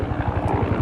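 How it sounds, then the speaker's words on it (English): A helicopter flying overhead outdoors, a loud, steady whirring roar with a fast, rhythmic rotor thump throughout and no talking. "Helicopter."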